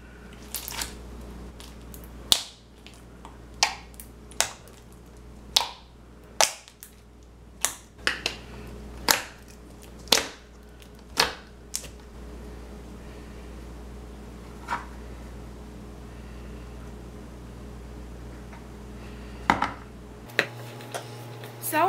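Thick white glue slime being squeezed and played with gives off a series of sharp clicks and pops, about a dozen distinct snaps spread irregularly over a quiet background.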